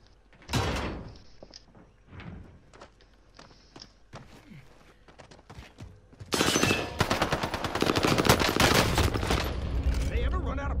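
Sustained gunfire in Call of Duty Warzone: scattered shots and footsteps at first, then a dense, loud, continuous burst of rapid automatic fire that keeps going to the end, with some talk mixed in.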